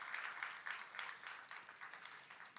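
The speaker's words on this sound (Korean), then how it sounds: "우리 같이 박수로 환영하십시다" Church congregation clapping to welcome newly registered members, including an ordained deacon, during a Sunday worship service; steady, dense applause throughout, moderately distant and soft in level.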